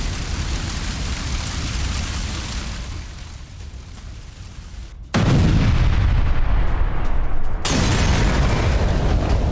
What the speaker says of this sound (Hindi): आईडी के जरिए बिल्डिंग में हुए विस्फोट की पहली तस्वीर आपके सामने होगी